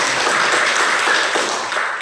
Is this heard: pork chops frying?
no